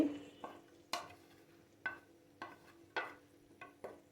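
Beef tripe being stirred as it fries in a pan, with a soft sizzle under about eight sharp scraping strokes spaced unevenly, close and moderately loud, and no talking.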